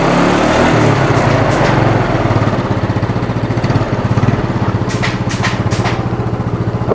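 A 2008 Yamaha Mio Sporty scooter engine starts and settles into a steady, close, rattly idle with a rapid regular putter throughout, a few sharp clicks near the end.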